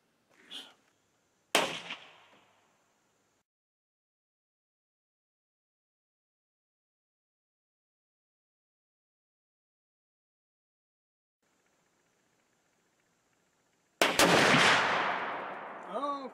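A Winchester X 150 rifle fired during hunting gives two sharp, loud reports far apart, the second ringing out with a long decaying tail, separated by near silence and a faint earlier click.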